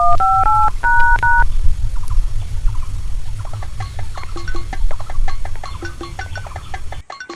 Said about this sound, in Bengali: পুটুকে ওটা ফোন লাগাই তার ঘর তো পাশে